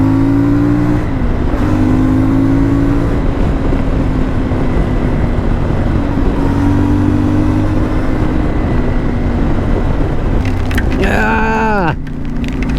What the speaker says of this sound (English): And just listen to this engine.